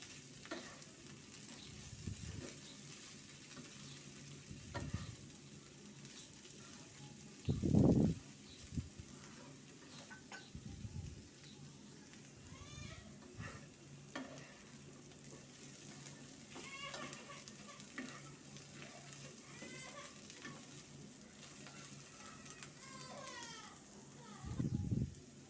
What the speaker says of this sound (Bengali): ভাজিটা অনেকটা হয়ে আসছে, আর কিছুক্ষণ ভেজে নেব।